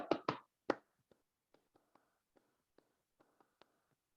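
Three loud hand claps of a laddu clap open the passage, followed by a light, evenly spaced series of soft taps and pats close by in a quiet room.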